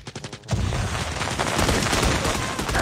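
Gunfire in Call of Duty Mobile erupts after a brief moment of quieter sound and then continues as a loud, dense volley of rapid shots, close and sustained.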